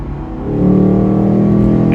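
A car accelerates hard up a highway on-ramp, its engine note rising into a loud, steady drone heard from inside the cabin, with no one talking.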